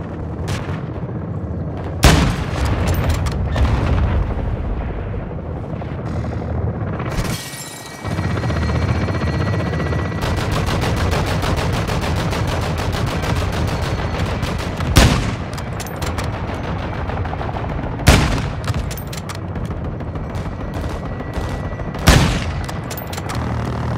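A requested artillery fire support strike in Call of Duty Modern Warfare 2 lands as a run of loud, heavy booms every few seconds over a constant roar of gunfire and rumbling battle noise.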